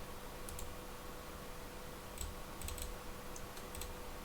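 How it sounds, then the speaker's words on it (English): A computer mouse clicks a few times during simulation software work, faint sharp ticks scattered over a steady low room hum, with no talking. "So we're going to click on those."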